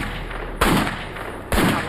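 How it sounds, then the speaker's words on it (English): Two sharp .357 Magnum revolver shots, evenly spaced about a second apart, each a hard crack with a short ringing tail, fired outdoors toward woods. "he took a .357 Magnum and started to fire into the woods"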